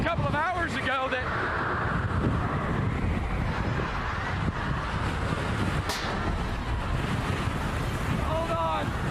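Strong gusty wind roars and buffets the microphone throughout an outdoor live weather report, a constant loud rushing with a few faint voices underneath.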